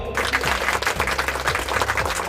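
Steady clapping from listeners, a continuous loud patter of many hands with an underlying rhythmic low musical pulse beneath it.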